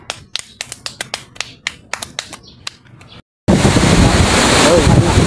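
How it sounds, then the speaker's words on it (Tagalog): Strong typhoon wind and rain roar loudly and steadily after a series of sharp clicks and taps, the gusty outdoor noise filling the second half close to the microphone. "sinulay namin yung malakas na hangin at ulan dito"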